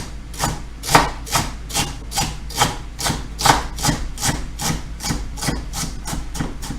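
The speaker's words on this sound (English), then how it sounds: "I put my knife down like that, and I just drop the knife down like a guillotine" A knife chops steadily and rapidly on a cutting board, dropping straight down like a guillotine, about eighteen crisp close knocks over seven seconds with no talking.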